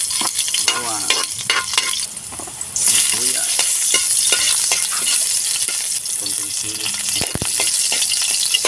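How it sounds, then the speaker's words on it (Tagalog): Chicken soup starting to cook in a pot sizzles and fries loudly, with stirring and scraping, and a surge of hissing partway through as more goes in. "Mula na natin magluto ng ating sinabawang manok."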